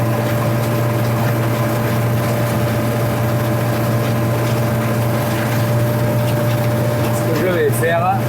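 Farm tractor engine drones steadily while mulching corn, a constant low hum with a steady tone, running throughout at close range; a brief rattle comes near the end.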